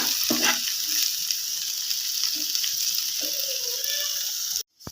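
Potato chips frying in a little oil in a pan, a constant close sizzle with a few scrapes and clinks as the pieces are turned, ending in an abrupt cut to silence.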